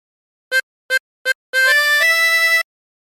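A 24-hole tremolo harmonica plays the first phrase of "There's a River of Life" alone: three short separate notes, then a longer run of sustained, wavering tones that shift pitch before stopping.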